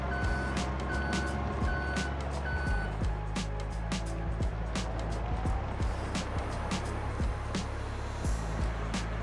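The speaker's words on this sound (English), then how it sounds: "We'll jump in our handy dandy little forklift here." A forklift in the Farming Simulator 22 video game backs up with a steady, repeating reversing beep over a loud engine drone and scattered clicks and knocks of game machinery, with no talking.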